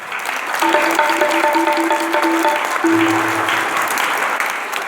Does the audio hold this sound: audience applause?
yes